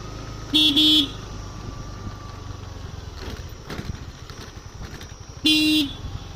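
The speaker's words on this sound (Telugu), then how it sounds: "సో హార్న్ కొట్టుకుంటూ వెళ్ళాలి" A scooter horn honks twice in short bursts, first a quick double beep then one longer blast, over a running engine and road noise.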